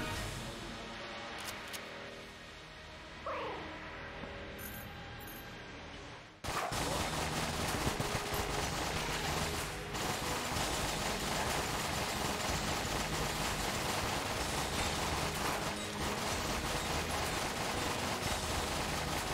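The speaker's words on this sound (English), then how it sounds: "I am tap shooting it because I don't want to hit DPS cap" Rapid gunfire from a weapon in the video game Enter the Gungeon, a dense, loud, continuous stream of shots that kicks in partway through after quieter game sounds and music.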